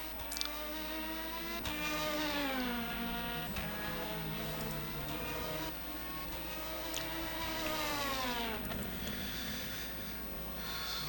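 An LMP2 race car lapping Sebring in rFactor 2, its engine howling steadily and rising through the gears with a brief lift and shift, several upshifts in sequence, heard continuously from an outside view.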